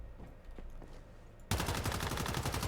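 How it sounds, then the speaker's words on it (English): Turret gunfire in the Once Human survival game: after a quiet stretch with faint clicks, a sudden loud burst of rapid automatic shots starts midway and keeps rattling steadily to the end. "And there's the annoying turret."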